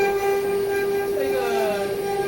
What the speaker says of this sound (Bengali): এখন মালগাড়ি ঢুকছে